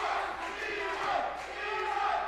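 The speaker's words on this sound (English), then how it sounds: "the crowd chants Brito, Brito, Brito" A boxing fight-night crowd chants the fighter Brito's name in a dense, roaring wash of voices. The rhythmic swells fill the arena and no single speaker stands out.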